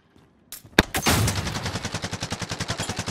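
Automatic gunfire in Call of Duty: Modern Warfare, a sharp opening shot then a steady rapid burst of evenly spaced rounds, loud and near, with no talking.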